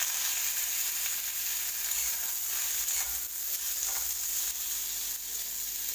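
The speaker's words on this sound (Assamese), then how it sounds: "মই ইয়াতে পিঁয়াজখিনি অকণ ধুনীয়াকৈ ভাজি ল'ম" Continuous hiss and crackle of onions frying in hot oil, steady and fairly loud, with no voices.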